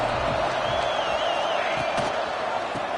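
Football stadium crowd at a Vanderbilt vs Ole Miss game, a steady loud roar of cheering fans filling the space, with some talk mixed into the din.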